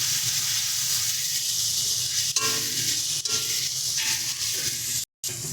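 Ground spices and turmeric stirred into a hot pan for an aloo-begun raw hilsa curry, with steady loud sizzling and frying hiss throughout, a couple of brief scrapes, and a short gap near the end.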